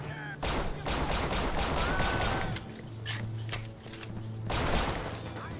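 Gunfire in the riot-control shooter game Urban Chaos: Riot Response: rapid bursts of sharp shots in quick succession, a pause, then another cluster of loud reports over a low game hum.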